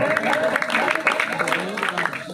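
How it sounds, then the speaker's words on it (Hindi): Crowd applause greets a band as they come on stage to collect a prize shield, a dense steady clapping with a voice talking over it throughout. "जोरदार तालियां बजा दो भाई"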